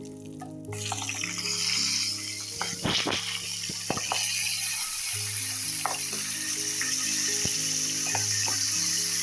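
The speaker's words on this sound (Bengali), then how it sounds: "এইবারে দাঁড়াগুলোকে ভেজে নেব।" Crab claws frying in hot oil for a crab curry, a steady close sizzle with scattered sharp pops and spatters, plus a few clinks of a utensil, loud and continuous with no talking.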